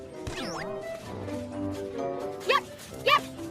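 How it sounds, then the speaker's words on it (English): A cartoon puppy yips twice in quick succession near the end, short sharp high barks standing out over a soft musical background. "Yep, yep. Barked the puppy."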